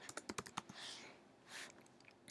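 Keyboard keys clicking in a quick burst of close, crisp taps while a search term is typed, then a brief pause and a few more scattered taps, with no talking.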